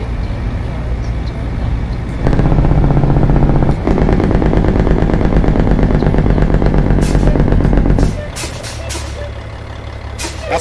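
Truck engine in American Truck Simulator heard with the windows down in the city, a loud steady rumble that swells partway through, holds, then drops off as a hiss and lighter traffic noise follow.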